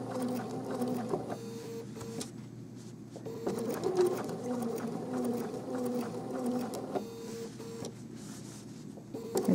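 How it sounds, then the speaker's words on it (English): A sewing machine slowly stitches down an appliqué edge on a quilt, a steady mechanical whirr running nearly continuously with a few brief pauses and restarts, close and moderately loud, with no talking. "Just sew that edge down."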